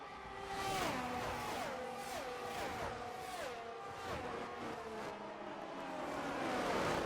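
Formula 1 race cars in F1 23 during a league race at the Netherlands circuit, several engines whining and shifting gears as they pass closely, with rising and falling pitch sweeps over a steady loud roar.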